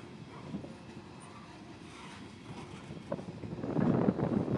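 CSX freight train rumbling past on a windy afternoon, faint and distant at first with wind buffeting, then growing louder with rail clatter near the end.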